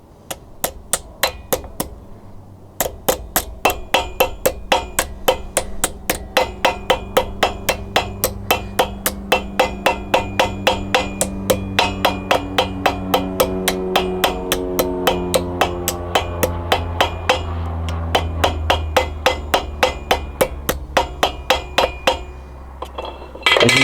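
Brass is hammered into a fishing spoon shape with rapid, regular metallic hammer blows ringing continuously and loudly, the tone of the strikes shifting as the metal forms, without talk.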